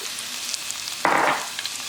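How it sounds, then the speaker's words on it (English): Chopped onion drops into a hot pan and bursts into a sharp, close sizzle that quickly settles into a steady frying crackle. "I'm going to add the onion to the pan"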